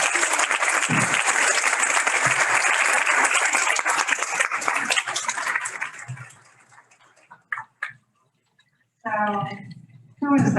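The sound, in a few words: audience applause welcoming a speaker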